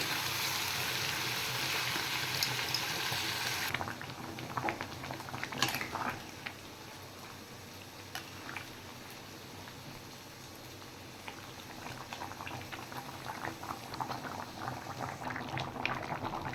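Mutton being slowly cooked down in a pot, a continuous bubbling, sputtering simmer with crackling patter throughout, loud hiss at the start easing into steady softer boiling.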